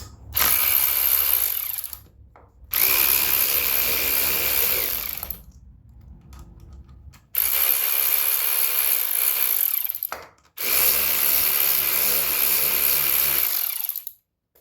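Ratchet or power tool working on the cam chain bolt of a 2022 Kawasaki KX450 dirt bike, heard as four loud sustained bursts of whirring separated by short pauses.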